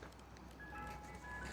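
A Mister Softee ice cream truck in Philadelphia plays its chiming jingle faintly from down the street, a thin melody over low background noise.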